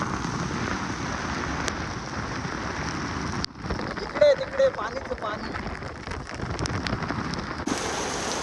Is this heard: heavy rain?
yes